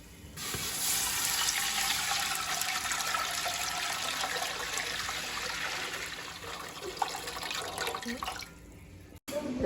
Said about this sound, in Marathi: काय त्या भाज्यात पाणी टाकून घेऊ.